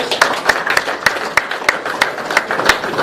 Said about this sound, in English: Round of applause for the Kimber boys.